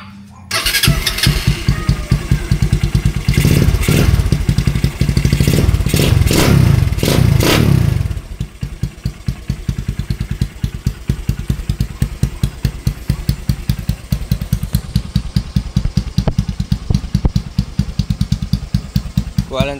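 Honda Supremo 200cc motorcycle with a kalkal exhaust pipe, starting and revving loudly up close with a crackling, rapid throb, then settling into a fast, steady popping idle.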